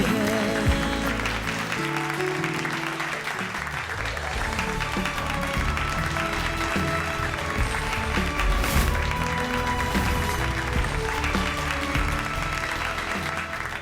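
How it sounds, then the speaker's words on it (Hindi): An audience claps in a sustained, dense wave of applause at a Varanasi division inter-school dance competition, mixed with music playing throughout. "दर्शकों की तालियों की गूंज से साफ पता चलता है"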